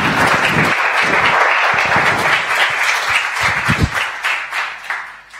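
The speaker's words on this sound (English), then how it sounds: "ask you to give them a quick round of applause" An audience applauds a panel of speakers at a business discussion, a steady wash of clapping from many hands that holds for several seconds, then thins out with a few louder individual claps near the end.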